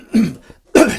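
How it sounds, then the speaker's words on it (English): Two sharp, close coughs from a man, separated by a short pause, loud and alone with no talk. "for those of you worrying about my little cough there"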